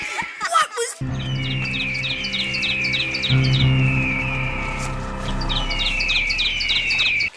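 A hawk sound effect from a movie: a repeated series of shrill, descending cries over a steady bed of music and ambience, loud and close, after a brief burst of other sound at the start.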